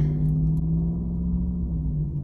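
An old, run-down car passes outside, a steady low engine rumble holding at moderate loudness throughout with no voices over it.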